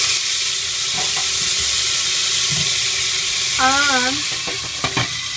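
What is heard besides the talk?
potatoes frying in a pan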